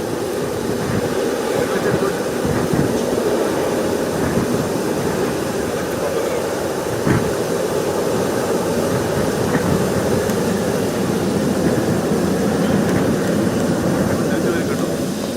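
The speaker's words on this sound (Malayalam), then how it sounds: "അവരുടെ ഫ്ലൈറ്റ് ഇറങ്ങുന്ന ദൃശ്യങ്ങളാണ് ഈ കാണുന്നത്" A constant loud, broad engine roar of a large transport aircraft landing at Thiruvananthapuram, rumbling close by, steady throughout with a brief thump partway through.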